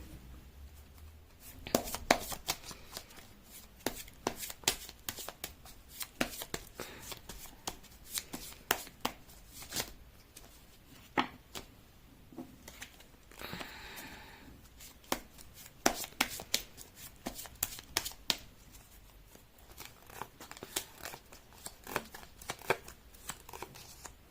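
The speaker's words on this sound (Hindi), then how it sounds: "मैं कर लेती हूँ कार्ड की शफलिंग।" Tarot cards being shuffled by hand, heard close and quiet as repeated crisp riffles and slaps in irregular bursts across the whole stretch, with no talking.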